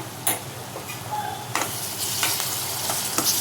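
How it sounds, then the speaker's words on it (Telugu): Onions frying with ginger garlic paste in a pan for paneer curry give a steady close sizzle, broken by sharp clicks and scrapes as the mixture is stirred. "ఉల్లిపాయలు వేగిన తర్వాత అల్లం వెల్లుల్లి పేస్ట్ వేసుకోవాలి."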